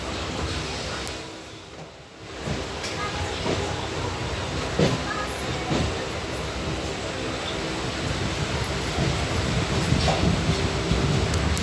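Train running along the line near Kalyani as it approaches a station, a steady broadband rumble of wheels and carriage noise that swells slightly over time, with faint clanks on top and no talk.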